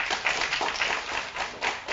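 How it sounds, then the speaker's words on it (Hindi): Audience clapping at a cultural center event in New Delhi, a rippling spread of hand claps with uneven swells, moderately loud and close, with no talk over it. "एक बार तालियां बजा दीजिए।"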